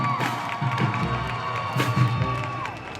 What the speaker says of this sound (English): let's give a final round of applause for all of our homecoming